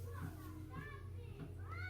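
Several kids play outdoors at a neighbor's house on a warm day. Their distant voices and shouts stay faint beneath a steady low household hum.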